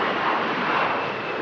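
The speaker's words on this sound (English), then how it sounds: "Aircraft in shot." A plane on approach to land at Manchester Airport during the strong winds of Storm Darragh, heard as a steady, broad engine roar mixed with gusting air, continuous and fairly loud throughout.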